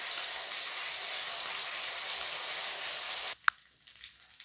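A fish head fries in hot oil, a loud, steady sizzle for about three seconds that cuts off abruptly, followed by a couple of faint clinks in near silence.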